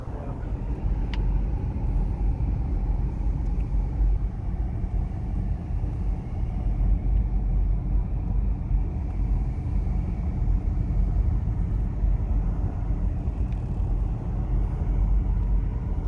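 Car driving along a mountain road through pine-covered slopes, heard from inside the vehicle as a steady low engine and road rumble, constant and fairly loud with no talking.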